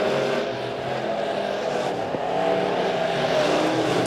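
Midwest Modified race cars racing door to door at Springfield Raceway, a steady, loud blended engine roar from the pack with broadband track noise and a brief sharper transient midway, no voices.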